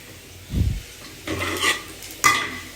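Onion, capsicum, soybean and garlic are stirred in a pan at home, a few separate scrapes and clatters of the spoon against the metal, each followed by a soft sizzle.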